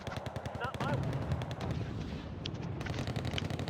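Abrams tank and other units firing in the real-time strategy game Wargame: AirLand Battle during urban combat, a dense, continuous barrage of loud gunfire and cannon blasts with rapid repeated bursts throughout.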